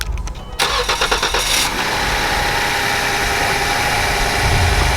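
A Ford Fusion engine cranks for over a second, catches, and settles into a steady, loud idle close by.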